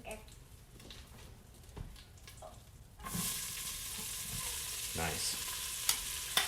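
Onions and garlic hit the hot bottom of an Instant Pot after the meat is removed, breaking into a bright, steady sizzle about halfway through, with a brief word spoken over the frying.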